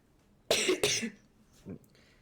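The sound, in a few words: coughing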